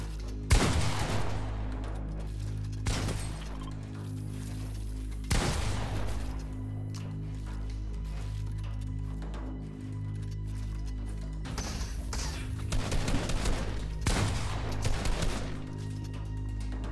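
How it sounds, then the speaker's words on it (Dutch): Gunfire in a Fortnite 1v1 match: sharp, loud shots and rapid bursts go off every few seconds over a steady, low in-game hum. "Ennis die meteen schiet."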